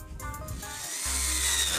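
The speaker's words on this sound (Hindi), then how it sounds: "ड्रिल की मदद से हमें स्क्रू को टाइट कर लेना है" A power drill runs steadily while tightening a screw into a dish antenna stand mounted on a wall, starting with a shorter burst and then holding a louder continuous whir up close.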